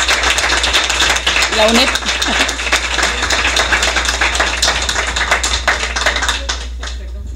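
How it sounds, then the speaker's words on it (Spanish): An audience at an official materials handover ceremony for a UNED course bursts into sustained applause, dense clapping near and loud throughout, with a brief spoken word early on. "yo creo que es merecido un aplauso, pero para todos"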